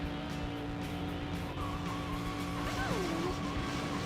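Sonic Adventure 2 game audio of a car driving steadily over a constant engine hum, then a short rising-and-falling squeal as it veers off the road.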